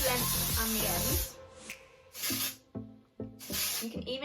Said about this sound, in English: all you want to do is just grab it and spray it through the mid-length and the ends